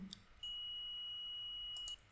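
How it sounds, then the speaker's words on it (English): A DT830D multimeter's continuity test gives a single continuous high-pitched electronic beep for about one and a half seconds, fairly quiet, with small clicks at the start and end. "If I attach this probe to the positive to the negative terminal, it is beeping"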